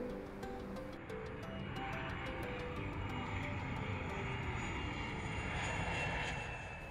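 Airplane arriving at Chattanooga's airport with its engines running, a steady, broad engine roar holding throughout with a faint rising whine, no voices.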